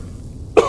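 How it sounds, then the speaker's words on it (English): A single short, sharp cough from a person with esophageal problems, close and sudden after near silence. "I forever am coughing due to my esophageal issues"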